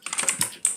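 Loud mechanical keyboard keys clatter in a quick, uneven burst of sharp clicks, heard close and harsh as over a voice chat microphone.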